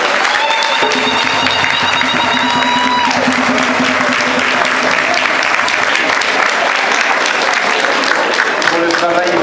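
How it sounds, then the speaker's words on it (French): Loud, sustained applause from a large audience at a beauty pageant election, fills the whole stretch, with a few tonal sounds and voices mixed in underneath. "on peut les applaudir encore une fois"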